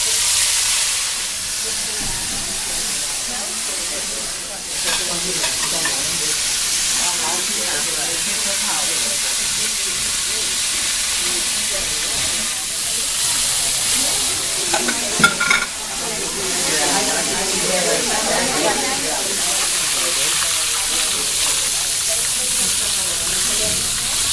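Food fries in oil at 350 degrees with a loud, continuous sizzling hiss that holds steady for over twenty seconds, with occasional bursts of crackle and a brief clatter midway.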